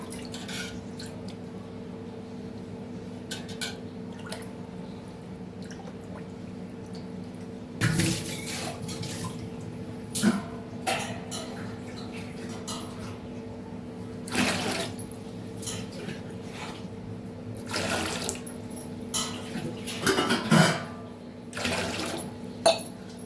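Water is poured into a cooking pot to be heated, a steady splashing stream over a constant low kitchen hum, with louder surges coming and going near the mic and no talking.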